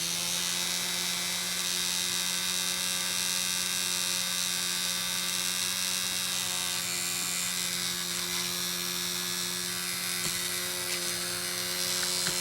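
A hair dryer blows hot air over wet acrylic paint, a steady whirring drone with a strong low hum that runs unbroken and close throughout.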